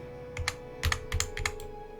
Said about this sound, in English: I'm just clicking.